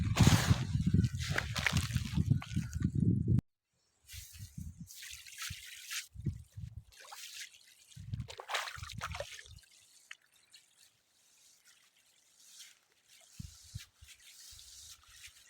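Urea fertiliser being mixed with liquid for spreading on a paddy field: a steady heavy pouring rush at first, then intermittent dribbles, splashes and sloshing up close.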